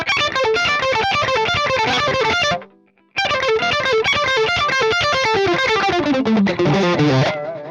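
A heavily distorted electric guitar plays a fast, loud riff, breaks off briefly, then resumes and ends on sliding, descending notes.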